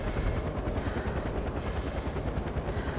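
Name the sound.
helicopter in Far Cry 4 video game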